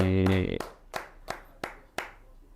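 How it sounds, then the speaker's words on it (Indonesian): A few sharp, separate claps ring out at a steady beat after a closing speech about a Mount Semeru climb, each one distinct and close, following a brief voice at the start. "Kita tepuk tangan lagi."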